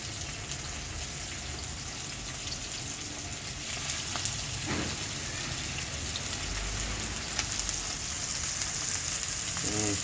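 Green banana hash stir fry sizzles and crackles steadily in a hot pan, a dense, continuous frying hiss close by with occasional louder pops and stirring, and no voices.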